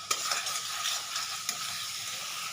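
Ground chili powder and Kashmiri chili powder are stirred and fried in hot oil in a pan for a rural-style rohu fish curry, giving a steady close sizzle with scraping stirs throughout.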